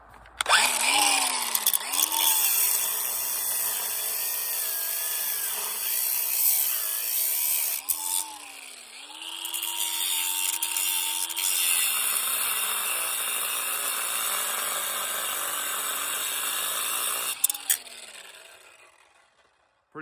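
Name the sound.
grinders cutting metal on a Powder River squeeze chute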